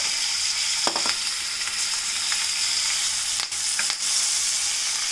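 Chopped ginger, green chilies and curry leaves sizzle and spit in hot oil in a home kitchen pan, a loud continuous frying hiss broken by a few sharp crackles and pops.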